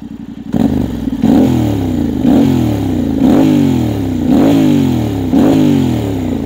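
A 2023 Yamaha Tenere World Raid motorcycle with a full aftermarket exhaust system revs repeatedly, about six loud, close blips rising and falling in a regular rhythm over a throaty idle.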